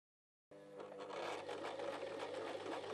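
Empisal Protea Elite sewing machine running a straight stitch at length 3, starting after a moment of silence and then humming and whirring steadily up close.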